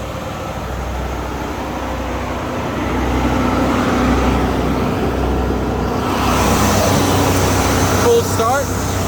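A 1977 Cadillac Coupe DeVille engine idles with a steady low rumble close by, growing slightly louder partway through as it warms up.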